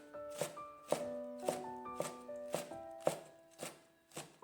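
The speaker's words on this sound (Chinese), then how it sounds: "然后再改刀把它切成小丁" A knife chops napa cabbage into small dice on a board, with sharp, evenly spaced strikes roughly twice a second, fairly quiet, over a faint tonal background.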